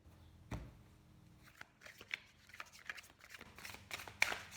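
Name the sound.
cutting and shuffling tarot cards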